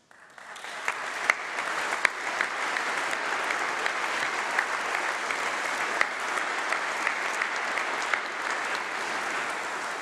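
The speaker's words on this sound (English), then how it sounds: "Please, graduates, huge round of applause." Sustained applause from a large crowd at a university graduation ceremony, a dense wash of clapping that swells quickly and holds steady throughout.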